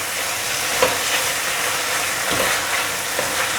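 A stir-fry with added water and fermented black beans being tossed in a pan: a continuous bubbling sizzle with occasional soft scraping and clinking of the utensil.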